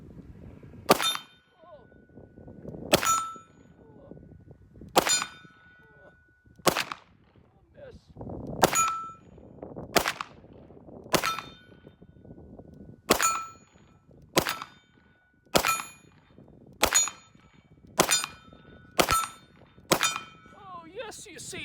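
Hudson H9 pistol fired repeatedly at a distant target outdoors, about eleven sharp, loud cracks spaced roughly two seconds apart, each with a ringing tail, and talk murmuring between shots.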